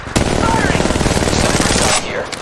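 Rapid automatic gunfire from the video game Apex Legends Mobile, a loud, continuous burst of shots lasting about two seconds, then ending abruptly and followed by quieter game sounds.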